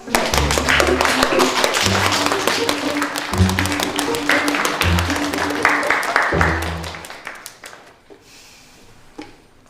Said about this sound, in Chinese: 我们热烈欢迎客座老师，鼓掌！